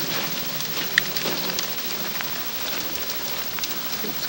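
A burst of heavy sleet comes down in a winter storm, a dense, steady hiss of pellets and drops striking surfaces, moderately loud and continuous with a few sharper ticks, no voices.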